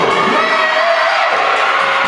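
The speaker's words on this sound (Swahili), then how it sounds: "Makofi kwa Didu." A crowd at a Form Six graduation at Eloni Secondary School cheers and claps for a student in a dense, loud, continuous burst of noise, with whoops rising above it.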